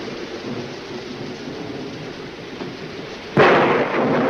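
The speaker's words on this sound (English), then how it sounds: "I love thunderstorms, don't you?" Steady rain hisses through a storm before a sudden loud thunderclap cracks in near the end and rumbles on under the downpour.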